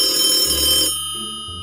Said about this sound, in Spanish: suena el teléfono en la bodega.